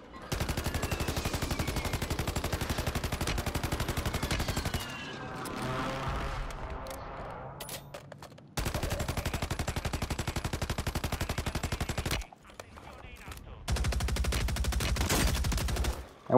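Rapid automatic gunfire in the video game Call of Duty Warzone, long loud bursts of shots broken by short pauses and quieter in-game noise.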